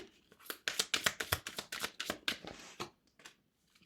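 Tarot cards laid out one after another on a table, a quick close series of crisp papery slaps and snaps that trails off, with no voices.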